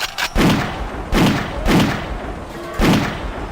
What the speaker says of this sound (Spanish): Escucho disparos de pistolas y rifles.